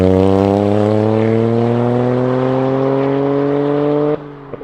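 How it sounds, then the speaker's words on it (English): Toyota GR Yaris fitted with an Akrapovič titanium race exhaust revs loudly and steadily climbing through the rev range, a smooth rising engine drone that cuts off abruptly near the end. "you can hear that further you go up the rev range, the smoother the sound gets"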